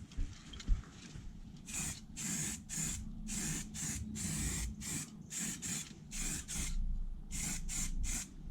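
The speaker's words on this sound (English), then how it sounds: "with all spray paints, first coat on is just going to be a light dusting, just to get some adhesion" An aerosol spray paint can lays a light first coat on the underside of a Classic Mini boot floor, hissing in a run of short, evenly spaced bursts at close range.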